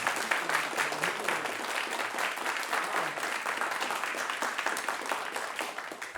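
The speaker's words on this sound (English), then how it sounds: "give it up, a round of applause for Eskil Steenberg Hall" An audience at a conference applauds, a dense, steady wash of clapping that carries on throughout at moderate loudness with no talk over it.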